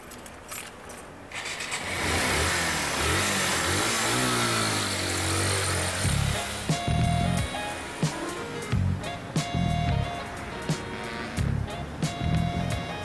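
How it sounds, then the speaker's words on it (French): A small motorbike engine starts and revs, its buzzing pitch rising and falling, then idles with sputtering bursts and a few voices talking. "François, il a une petite moto."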